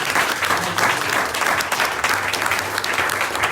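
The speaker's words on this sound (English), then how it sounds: "Give a round of applause." Loud, close applause from the audience at the Staten Island Rotary Club's 100th anniversary charter night, a thick continuous burst of many hands clapping that stays strong from start to finish.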